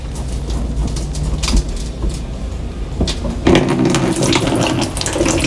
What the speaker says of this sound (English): You can see some of the water's draining out of that drain pipe from the dishwasher.